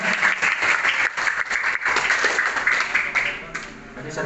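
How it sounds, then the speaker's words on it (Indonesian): Applause from a seminar audience for a motivational speaker at a textile industry workshop, dense steady clapping filling the room throughout, fading slightly near the end. "Aplaus untuk beliau Pak Dadang dari Primatek."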